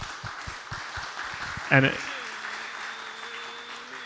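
An audience at a community meeting claps in a steady, hissing wash of applause while someone speaks over it, with a sharp knock partway through.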